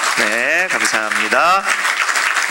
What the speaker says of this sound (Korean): 우리 청년들에게 한번 축복의 박수 따라가겠습니다